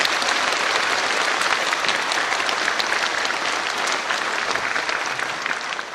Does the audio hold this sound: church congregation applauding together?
yes